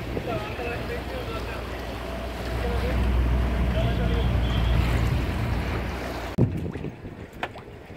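Sailing yacht Doris maneuvering alongside a municipal pier opposite Bodrum Castle, with a steady low engine drone and water wash that swells midway, then a couple of sharp knocks near the end and faint voices in the background.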